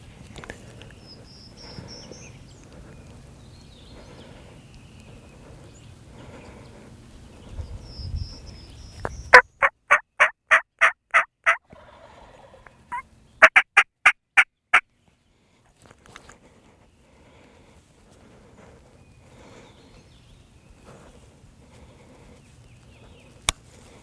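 Wild turkey gobblers on Georgia public land during a spring hunt, gobbling at a decoy; fowl calls and rustling early on, then two sharp bursts of loud rapid clattering pulses, with faint low murmurs between.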